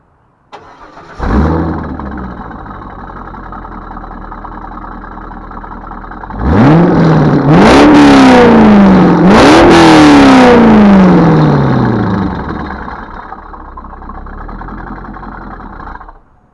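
A Chevrolet Corvette's LS V8 with an aftermarket exhaust runs close and loud, then blips its throttle in several sharp, rising revs before settling back to a steady rumble. No one speaks.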